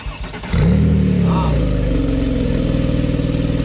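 A Porsche 911 997 Turbo with a manual gearbox fires up with a sharp starter burst, then settles into a loud, steady, close engine note with small revs rising over a continuous rumble.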